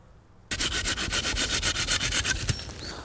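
A knife works along a timber pole at a bushcraft camp, flattening one section. After a brief quiet start it becomes a close, steady rasping scrape, with regular back-and-forth strokes running continuously to the end.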